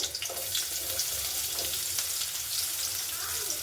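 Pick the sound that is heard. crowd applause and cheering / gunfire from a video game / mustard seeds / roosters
mustard seeds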